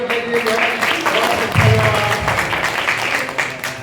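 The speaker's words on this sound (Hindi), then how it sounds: "ताली बजा दो" Devotees at a Guru Ravidas katha clapping together in a loud, sustained wash of hands, with some voices murmuring underneath.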